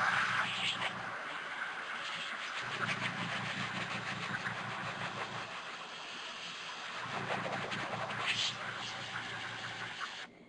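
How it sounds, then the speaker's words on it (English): An air compressor running while it refills its tank for an airbrush. It gives a steady mechanical hum and drone from start to finish, with hissing bursts on top, inside a craft room. "you can probably hear my compressor in the background"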